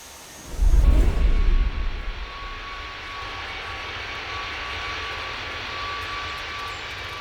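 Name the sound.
KLM 790 Heavy jet taking off, Tower! Simulator 3 video game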